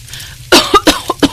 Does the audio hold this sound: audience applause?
no